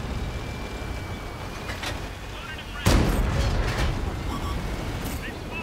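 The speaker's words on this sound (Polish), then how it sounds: "A jest i artyleria. Jest i artyleria." World of Tanks artillery fire lands as one heavy, fairly distant boom partway through, set against steady battle rumble and engine noise, with someone talking over it.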